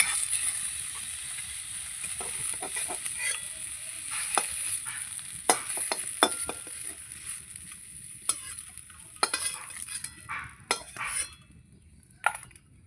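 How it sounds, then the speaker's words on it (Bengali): Steady sizzling of panch phoron spices frying in hot oil in a wok, with scattered clinks and scrapes of a utensil stirring in the pan. "আমি এর মধ্যেই পাঁচফোড়নটা ভেজে নিচ্ছি"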